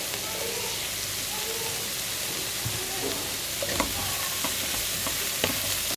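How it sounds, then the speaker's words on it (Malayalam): Onions frying with salt in a pan for chicken curry, a continuous close hiss of oil with a few scattered scrapes and taps of the spatula toward the end, steady and unaccompanied by talk. "നന്നായിട്ട് സവാള വാടി വരട്ട് നമുക്കൊന്ന് പതിയെ മൂടി വെക്കാം"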